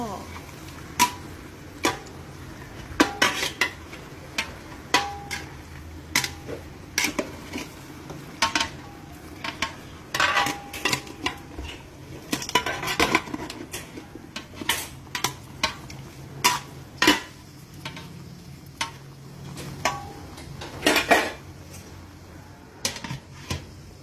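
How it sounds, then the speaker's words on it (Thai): Spoon or ladle scraping and clinking against a pot of Thai-style chicken soup with kaffir lime and basil leaves, in intermittent stirring strokes with a soft simmer beneath, close and moderately loud. "แล้วเราก็มาคนอีกรอบหนึ่งนะคะ เพื่อจะไม่ให้มันติดก้นหม้อ"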